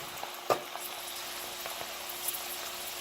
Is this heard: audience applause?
no